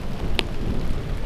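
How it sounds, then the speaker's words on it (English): Steady patter of rain with a low rumbling roar from a passing thunderstorm in the Iowa countryside, plus one brief high chirp partway through. "Got a little thunderstorm that's passing."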